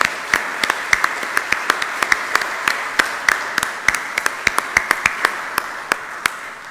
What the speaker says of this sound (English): Let us give them a warm round of applause of congratulations.